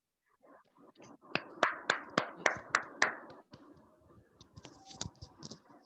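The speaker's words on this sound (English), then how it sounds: "Can you have a big clap" A classroom audience gives a short burst of rhythmic claps, about eight crisp, evenly spaced hits, followed by softer scattered clapping and faint murmurs.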